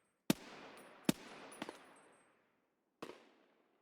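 Gunshots ring out in the video game Escape from Tarkov: two sharp cracks about a second apart, then a softer third report, and a final shot after a short silence. Each blast leaves a long fading echo.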